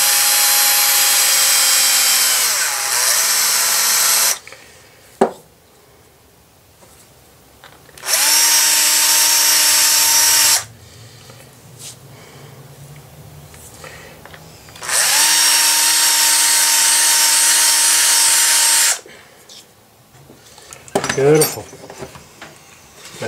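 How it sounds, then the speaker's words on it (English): Power drill deburring and chamfering a freshly drilled hole in metal, three loud bursts of high whining spin separated by quieter gaps with faint handling clatter. "So it's a matter of deburr the hole a little bit,"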